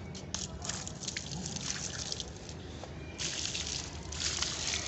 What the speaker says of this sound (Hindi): तो गाइस अब मैं पौधों को पानी डाल देता हूँ,